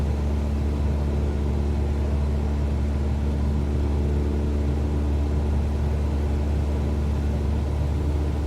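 Steady, droning engine of a Cessna 172 in Microsoft Flight Simulator, a continuous low rumble holding even throughout with no talk over it, as the light single-engine plane flies slow in a gentle right turn with a touch of added power.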